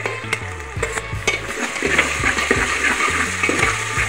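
Two spoons of ginger garlic paste sautéing in a pan for mutton curry, a steady close sizzle with scraping stir strokes, over faint background music.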